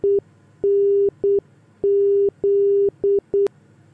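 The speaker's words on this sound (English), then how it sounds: "press the ADF button on the audio panel to listen to the Morse code identifier" An NDB Morse code identifier heard through the ADF audio panel, a clear steady tone keyed into long and short beeps with brief gaps, loud and alone.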